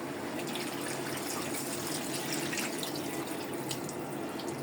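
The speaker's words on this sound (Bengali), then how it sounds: "এখন আমি সামান্য ঝোল দিব, বেশি ঝোল দিব না" Steady soft pouring and bubbling as a little broth is added to braised meat curry in a pan, a faint, even liquid sound with no talking.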